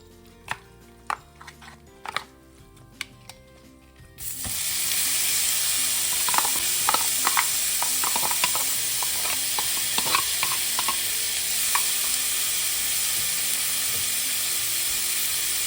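Spice paste hits a hot pan at about four seconds and breaks into a loud, steady sizzle, with a spoon repeatedly scraping and stirring through it. Before that comes a quieter stretch of separate clinks and taps.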